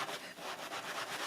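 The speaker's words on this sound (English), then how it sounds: "I'm still rubbing and still peeling back." Hands rub wet felt for a felted poppy, making a continuous close, soft swishing friction with a gentle back-and-forth pulse and no talk.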